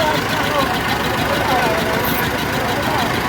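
An ATS 290 tractor engine runs steadily at a power show, a dense continuous mechanical rumble with no breaks, heard close and loud throughout.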